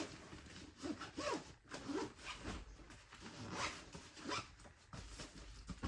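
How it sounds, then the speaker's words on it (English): Close, quiet zipping on a fabric packing cube as its compression zipper is drawn all the way around, heard as a series of short rasping pulls with small pauses between them. "the second zipper, which is the compressed zipper, just go all the way around"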